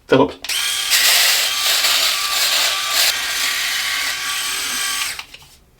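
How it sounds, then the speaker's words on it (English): A Philips Norelco electric shaver buzzes steadily across a face, a loud close whirring hum that starts abruptly, holds for several seconds with slight shifts in pitch as it moves over whiskers, then cuts off. "the standard Norelco working fine"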